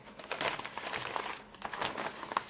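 Packing paper crumples and crinkles up close as a parcel of LED warning lights is unboxed, in irregular rustling bursts with no talk.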